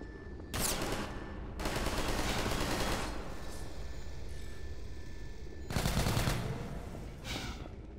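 Rapid automatic gunfire in Half-Life 2: Episode 1, loud bursts of shots separated by short pauses, with a continuous rattle in between.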